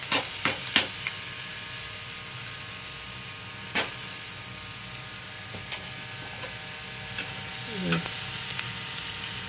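Washed poha tipped into a sautéed mixture frying in a pan, a low continuous sizzle with a few sharp utensil clicks and a brief scrape.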